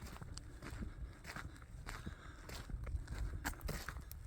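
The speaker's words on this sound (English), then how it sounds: "You can tell by his footsteps that it rained today." Footsteps on wet ground after rain at a sheep farm at night, a steady series of soft, squelchy treads close by, with broadband crackle over low rumbling background noise and no talking.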